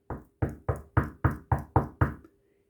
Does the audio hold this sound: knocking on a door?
yes